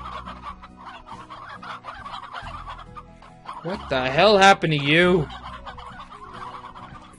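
Squawking, clucking chicken calls from a bird in the game Slime Rancher, a loud burst of several warbling clucks in the middle over game music, with someone speaking briefly before it.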